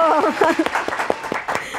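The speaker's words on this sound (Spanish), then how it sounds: "¡Aplausos! ¡Bravo!" Brief scattered hand claps from a small studio group on a talk show, mixed with laughter and chatty voices throughout, the claps coming as a loose handful of close, sharp pops.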